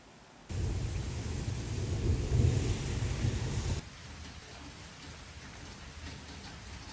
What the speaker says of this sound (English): it's next day, and it's raining